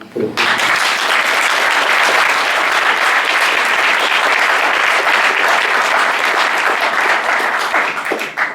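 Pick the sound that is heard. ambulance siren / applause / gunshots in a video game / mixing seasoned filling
applause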